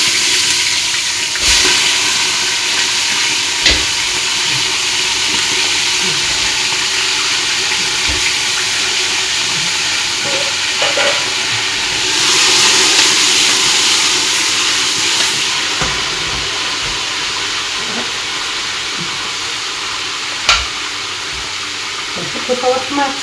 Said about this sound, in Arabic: ونرمي الدجاج.